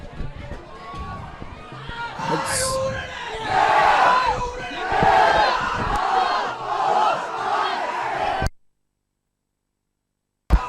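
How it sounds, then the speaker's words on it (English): A large crowd at a school cricket match between S. Thomas' College and Royal College roars and chants continuously for their teams, loud and sustained, then cuts to silence near the end. "as you may be able to hear, the crowd supporting their teams"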